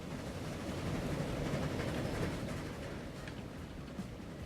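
Train running in the Transport Fever game, a continuous low rumble with faint rail clatter, steady and moderately loud with no talk.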